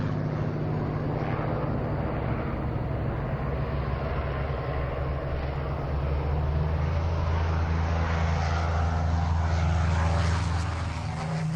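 A Supermarine Spitfire fighter's propeller engine drones steadily in flight, a loud, continuous low throbbing roar that swells slightly toward the end, with no speech.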